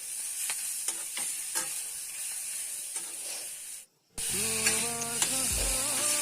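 Ginger-garlic paste frying in a pan, with a spatula scraping and stirring in short strokes under a constant sizzle; a brief silence falls near the middle before the sizzle returns with tonal background sounds.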